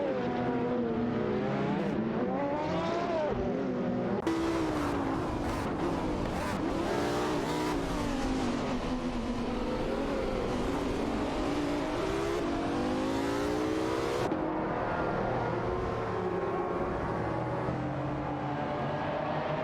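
Several race cars duel in a video game race, including a Nissan and a Chevrolet Camaro, with engines revving and shifting through rising and falling pitches. The loud, continuous engine roar is overlapping and close, with no talking.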